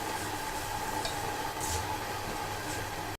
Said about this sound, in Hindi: इसको हम अच्छे से मिक्स कर देंगे और पकने के लिए ढक देंगे